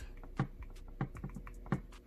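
A Wacom pen taps and scratches across the screen of an LG V60 phone while writing, giving a handful of light, close, irregular ticks in a quiet room.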